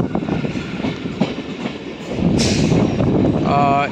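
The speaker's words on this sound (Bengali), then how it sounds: "বর্তমানে কিন্তু 1 নম্বর প্ল্যাটফর্মে ট্রেনটি ঢুকছে। আরামবাগ স্টেশনে 1 নম্বর প্ল্যাটফর্মে ট্রেনটি ঢুকছে।" A local train pulls into platform 1 at Arambagh station with a loud, close rumble of wheels and carriages, a rising surge partway through, and a brief squeal near the end.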